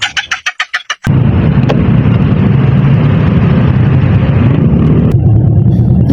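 A motorcycle cranked several times in short rapid bursts before the engine catches and settles into a loud, steady running rumble, heard close with a few sharp clicks later.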